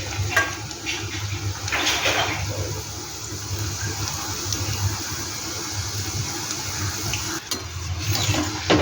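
Slices of taro root deep-fry in hot oil until golden, a steady dense sizzle and bubbling hiss that holds throughout with a few brief louder crackles, close up and without talking.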